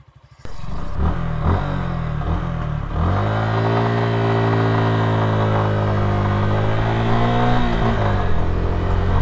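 A 2024 Suzuki Gixxer 155 FI motorcycle pulls away on a test ride. The engine note rises sharply and then holds a loud, steady drone through the gears, close to the rider.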